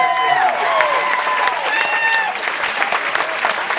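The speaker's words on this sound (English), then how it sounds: "One more round of applause for our student council president." A graduation crowd applauds the student council president for the class of 2013, loud close clapping with scattered cheers and voices mixed in, easing slightly toward the end.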